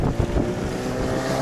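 A boat with a Yamaha 8 outboard motor runs at speed on the water. It makes a steady, wind-buffeted engine drone with low thumps and no speech.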